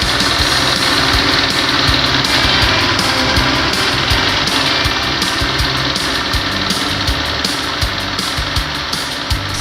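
A 1992 60 hp Johnson outboard motor idles steadily while warming up with the fast start lever raised, a rough continuous drone with a faint rapid ticking, running on its own without anyone speaking.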